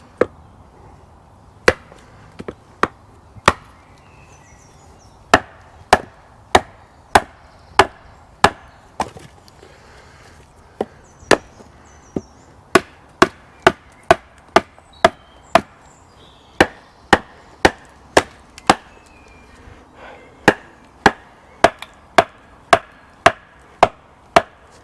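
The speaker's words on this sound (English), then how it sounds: "I love the sound when the wood's cracking, it's nice." Sharp cracks and pops of wood, heard repeatedly at an uneven pace through a campfire-cooking outing with flint and steel, bannock, bacon and eggs; crisp, fairly close snaps over a quiet background.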